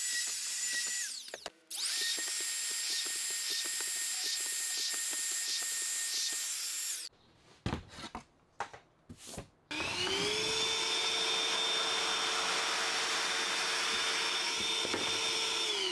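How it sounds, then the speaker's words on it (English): Plunge router boring holes in wood using a drilling jig: a loud, high whining motor runs steadily, cuts out briefly with a few clunks and bumps, then spins up again and whines continuously. "You just move the router to the hole and plunge down."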